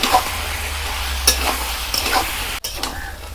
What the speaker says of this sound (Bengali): ধনে গুঁড়ো, জিরে গুঁড়ো, 1 চামচ লঙ্কার গুঁড়ো দিয়ে ভালো করে মাংসটাকে কষাবো।